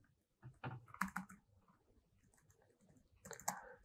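Typing on a computer keyboard, quiet close clusters of key clicks in two short bursts separated by a softer lull.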